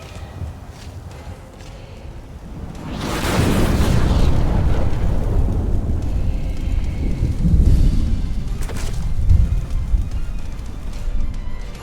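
In Skyrim, an Ion Cannon strike from a mod erupts into a deep, rolling explosion that swells and lingers. Crackling rumbles and debris follow, with a second surge of booming later on.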